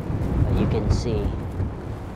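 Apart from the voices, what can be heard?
strong wind blowing on the microphone outdoors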